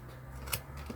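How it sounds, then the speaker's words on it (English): A single quick snip of scissors through Christmas card paper, close and fairly quiet, one brief crisp cut over a low steady background hum. "I'm just going to cut it."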